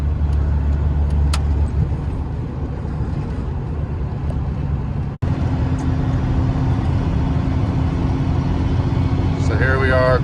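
12-valve Cummins truck with compound turbos (S480 and HE351) cruising at quarter throttle, steady loud low engine and road drone throughout, brief cut midway, someone speaking over it.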